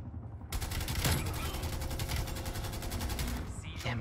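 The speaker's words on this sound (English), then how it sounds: "Should I just keep on shooting?" Rapid automatic gunfire from the video game Call of Duty Cold War, a dense sustained burst of shots after a brief quiet start, loud and continuous with a sharper report near the end.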